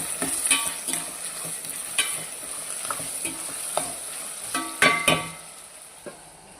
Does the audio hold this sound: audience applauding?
no